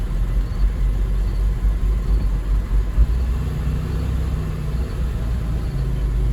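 A 2006 Buick Lucerne engine running rough and misfiring, heard close as a steady, heavy low rumble with slight unevenness and no voices over it.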